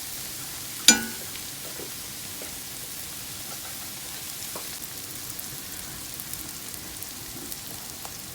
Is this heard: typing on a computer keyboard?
no